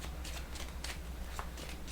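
Tarot cards riffled and shuffled by hand in a few quick bursts, soft papery flutters close up with no talking.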